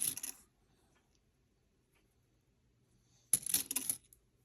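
Quarters from a coin roll clatter and jingle in two short bursts, one at the start and a longer spill near the end, with quiet between them.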